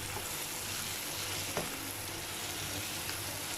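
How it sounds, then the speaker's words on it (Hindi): Vegetables for chicken fried rice stir-fry in a hot pan, giving a steady broadband sizzle throughout with a single brief utensil scrape near the middle. "इसे अच्छे से मिक्स कर लेंगे और वेजिटेबल तकरीबन हमारी फ्राई हो चुकी हैं"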